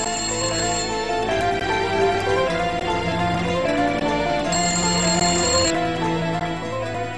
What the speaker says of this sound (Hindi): सुबह सुबह ये कौन फोन कर रहा है?